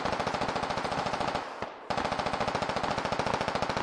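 Sustained automatic gunfire in the video game Squad, a dense rapid stream of loud shots that breaks off briefly midway and then resumes at the same fierce pace.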